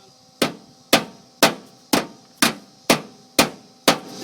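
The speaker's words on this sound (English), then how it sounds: "you're going to want to hammer that down" Hammer blows flattening a metal panel on a Mustang's outer wheelhouse during restoration, eight sharp, evenly spaced metallic strikes about half a second apart, close and loud with short ringing decay.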